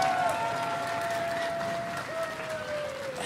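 A concert audience at a band's show at the TLA applauds and screams, sustained clapping and cheering under a loud announcer's voice, with a steady whistle-like tone running through.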